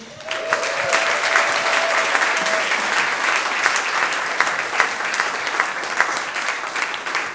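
Steady, loud audience applause fills a small theatre at a stand-up comedy show, a dense roar of clapping hands with a brief sustained tone early on.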